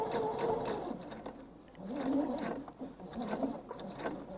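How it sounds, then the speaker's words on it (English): Faint, uneven whirring from a sewing machine top stitching the edge of a thread catcher, starting and slowing in short spurts at a low level. "we're going to top stitch this edge"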